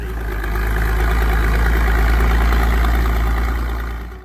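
A classic Massey-Harris 44 tractor engine idling steadily, a loud continuous low rumble with even mechanical vibration throughout.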